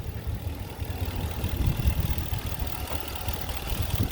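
2019 Ram 1500 Rebel 4x4 with a 5.7-liter HEMI V8 idling, a steady low rumble with a slight uneven pulse, close by and alone.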